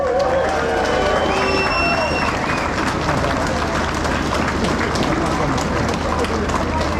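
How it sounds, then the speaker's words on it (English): Crowd at a farmers' tractor rally near Westminster Bridge in London applauding the police: sustained outdoor clapping and crowd noise, a constant low rumble underneath and brief high tones early on. "can we give the police a round of applause?"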